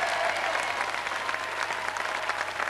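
Steady applause from a TV studio audience, dense clapping filling the whole stretch at an even, fairly loud level.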